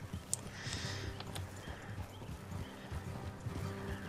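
Horse hooves clip-clop in Red Dead Redemption 2, an uneven, steady patter of hoofbeats over a soft outdoor ambience, with faint snorts and rustling mixed in.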